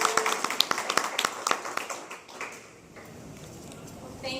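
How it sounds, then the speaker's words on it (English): An audience claps for a few seconds at an evening talk introducing NASA solar system ambassadors, a burst of scattered close hand claps that thins out and fades into a quiet room. "Give them a round of applause."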